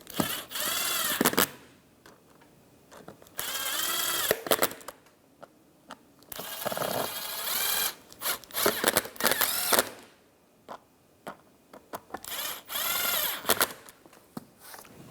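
Power drill driving screws in short bursts to secure a seat back during a seat back heater kit replacement on a 2000-2006 Chevrolet Tahoe, several loud whirring runs separated by pauses, close by.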